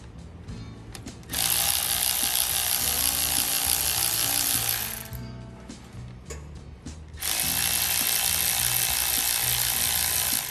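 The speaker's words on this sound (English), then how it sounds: "I'm switching over to this Milwaukee electric ratchet" A Milwaukee electric ratchet buzzes loudly in two long bursts of several seconds each while taking bolts off a 1930 Ford Model A engine, with quieter mechanical clicks and handling noise in between.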